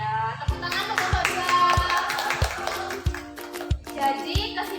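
A classroom of children claps for a student group, with a rhythmic pattern of sharp claps at regular beats over several seconds, accompanied by children's voices.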